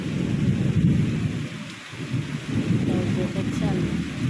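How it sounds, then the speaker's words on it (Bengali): Thunderstorm with heavy rain: a low rolling thunder rumble over a dense, steady hiss of rainfall that continues throughout, loud and enveloping. "আজকে বৃষ্টি নামছে গাইস কারেন্ট গেছে কিছুক্ষণ আগে তা আকাশে ডাক দিতেছে"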